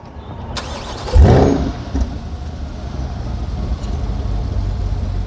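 A Chevrolet C8 Corvette engine cranks and fires with a loud burst, then blips once and settles into a deep, steady rumble up close.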